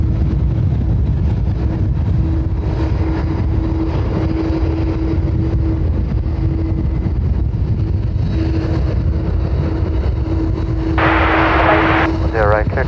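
An airliner taking off from runway 10R at Dublin Airport gives a loud, continuous engine roar with a steady tonal whine, with livestream chatter over it.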